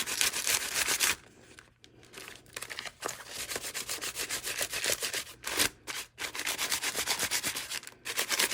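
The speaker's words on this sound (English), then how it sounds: "take our ground espresso and just rub it" Ground espresso rubbed by hand onto journal paper, a close, steady scratchy rubbing and sanding texture running almost continuously, with a couple of brief pauses.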